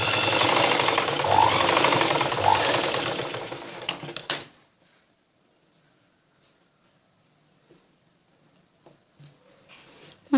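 A sewing machine runs a straight line of stitches on blouse fabric, a fast loud mechanical rattle lasting a few seconds before stopping abruptly, leaving near silence with faint handling clicks.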